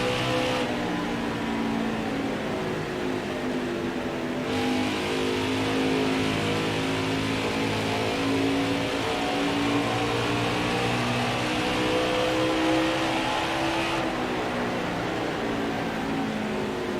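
A NASCAR Heat 5 race truck engine at Iowa, a loud, steady droning whine that holds and shifts pitch slightly as the throttle eases into a corner, continuous and alone without speech.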